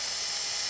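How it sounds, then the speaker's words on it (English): Sanding wood, heard as a steady, close, loud hiss that runs continuously without a break. "It's sanding up very nice"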